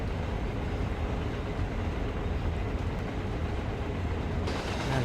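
A train passing close by to the left in Train Sim World, on the Peninsular Corridor route, gives a steady, loud rumble of rolling wagons that holds for the whole stretch without any talk.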